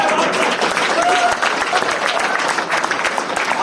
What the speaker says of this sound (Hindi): जो तालियां आपकी बजी है ना बिना सुने आगे